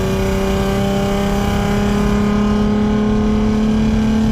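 Lexus IS 250 engine with ported intake manifolds pulls steadily under throttle from inside the car, a loud, sustained engine drone with rising tone and no talk over it.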